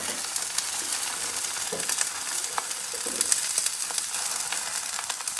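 Boneless beef sizzles and fries steadily in a pan with onion, garlic and green chillies for a beef karahi, a dense crackling hiss with occasional sputters, close and continuous.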